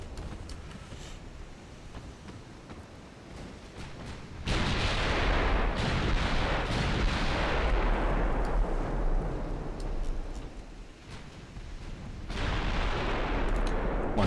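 Heavy naval artillery booms again and again in a British campaign video game, with big guns tracking a target; deep, loud blasts rumble and swell in long waves, dropping briefly before another surge of gunfire.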